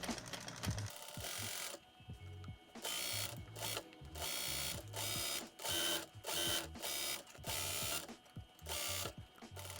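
A sewing machine stitches smocked elastic pant fabric in repeated bursts of rapid mechanical clatter, each run lasting under a second with brief pauses between, close and fairly quiet, no talking.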